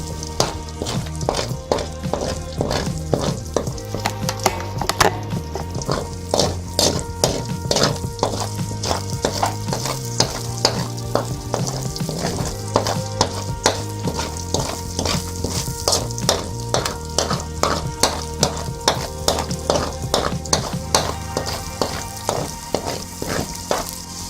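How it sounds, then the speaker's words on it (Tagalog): Egg frying in a little olive oil in a pan, a steady dense sizzle and crackle running continuously at close range with scattered sharp pops and a low hum underneath, no voices. "naglagay po ako uli ng konting olive oil sa ating kawali kasi ipiprito ko po itong ating itlog."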